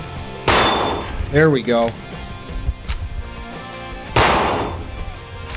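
Glock 45 pistol fired at a steel target: two loud sharp shots about four seconds apart, each with a ringing tail, with a brief voice speaking between them.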